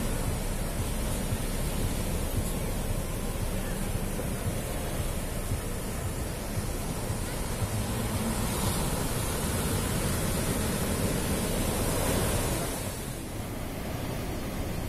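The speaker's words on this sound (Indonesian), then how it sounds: "ombaknya yang datang bergulung-gulung tidak begitu besar kemudian datarannya yang juga landai pantainya landai" Small ocean waves roll onto a gently sloping black sand beach as a dense, continuous wash of surf, loud and steady throughout with a brief swell near the end.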